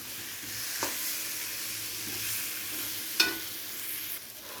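Potatoes fry in a spice paste of ground cumin, chilli and bay leaf for a fish head curry, giving a steady close sizzle broken by a few scraping stirs.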